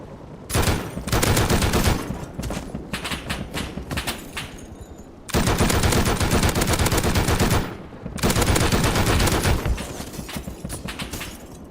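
Gunfire from high-velocity bullets in the video game Rust, heard as loud, dense automatic bursts in three long volleys separated by short pauses, with no talking.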